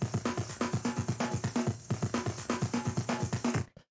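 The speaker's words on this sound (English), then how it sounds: "The next thing we have here is this first breakbeat" Old jungle breakbeat drum loop of punchy kicks and crisp snares in a fast, swung, repeating pattern, loud and alone, cutting off abruptly at the end.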